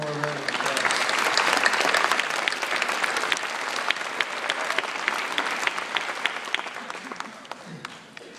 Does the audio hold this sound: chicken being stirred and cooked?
no